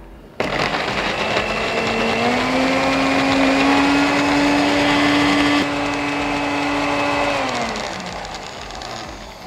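Kitchen blender whirring steadily as it purees ingredients for a vegan egg mix, starting abruptly, running loud and close with a constant high motor whine, then shifting pitch and winding down near the end.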